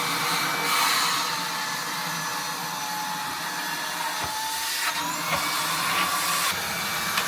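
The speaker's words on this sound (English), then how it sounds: "Do you vacuum in your engine? Yes, I am." A vacuum cleaner runs steadily while cleaning out the engine bay of a Beta 43 narrowboat, a constant close whine with a few knocks and bumps as the nozzle moves around.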